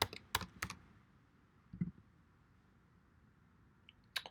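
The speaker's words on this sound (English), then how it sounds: "Let me go ahead and put in my password here." A few quick bursts of keystrokes as a password is typed on a computer keyboard, soft clicks clustered at the start and end with a quiet pause between, close and alone.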